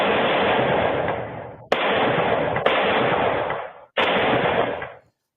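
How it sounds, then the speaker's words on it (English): Rapid bursts of gunfire captured by a Ring door camera in Shorewood, several sustained volleys with brief pauses between them, loud and harsh. "Ring video captured the sound of gunfire early this morning in Shorewood"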